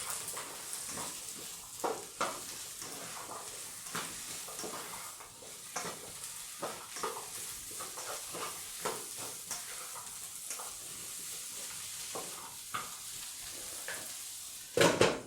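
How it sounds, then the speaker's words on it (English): Ingredients for a vegan Thai curry are stirred in a pan, a steady sizzle broken by repeated scrapes and clinks of a utensil, close and fairly quiet, with a louder clatter at the end. "So just stir that around just so it's all nicely coated."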